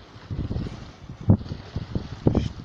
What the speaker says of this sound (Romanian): E o barcă acolo, un pescar cu barcă. Duce un motor pe valurile astea.